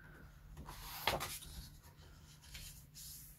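Paper being creased into folds while building a small cube for a photo album craft project: soft rubbing and scraping strokes, close and quiet, with one brief sharper crease in the middle and no voices.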